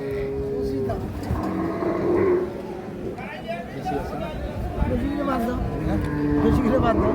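A Shahiwal Sindhi cow with her young heifer calf lows at a busy cattle market, giving drawn-out moos close by while people talk and chatter throughout.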